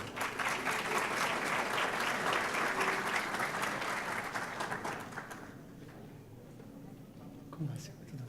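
Warm audience applause greets a guest invited to the lectern at a legal conference, a dense wash of clapping that holds for about five seconds and then fades, leaving murmured voices.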